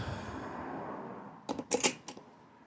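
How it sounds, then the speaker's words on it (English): A wrench works on a stud of a Kohler XT675 engine on a Poulan push mower, making a quick cluster of sharp metallic clicks and ratchets at close range after a quiet stretch of soft background noise. "So you're going to get it nice and tightened into place."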